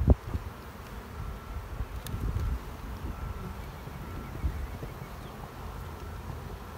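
Honey bees buzz around an opened small hive, a low hum with a few louder passes close to the microphone and soft handling noises, with no voices.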